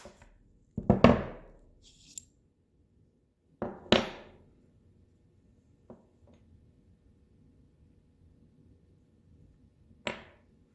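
Hammer striking a metal transfer punch to knock out the end of a pen cap: four or five sharp, separate metallic taps with brief ringing decay, spaced irregularly in a quiet room.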